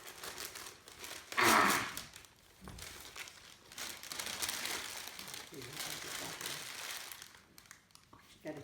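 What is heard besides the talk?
unwrapping a heavily wrapped, taped present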